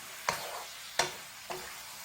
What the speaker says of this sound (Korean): 마늘을 같이 넣고 얘를 익혀줄 거예요